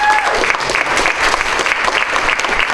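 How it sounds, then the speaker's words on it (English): Audience applause at a women's wellness expo held by a chamber of commerce, sustained dense clapping from a crowd, loud and close and continuous throughout with no clear speech. "Let's give her another round of applause."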